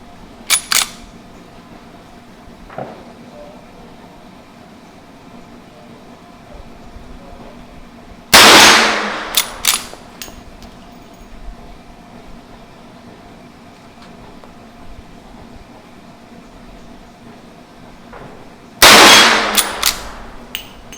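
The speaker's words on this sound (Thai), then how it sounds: "เดี๋ยวเรามาลองยิงที่ระยะ 50 หลากันดูนะครับ" A Winchester 1873 lever-action rifle is fired at a 50-yard target, with two loud, sharp shots well apart. Each is followed by quick metallic clicks of the lever, and smaller mechanical clacks sound near the start.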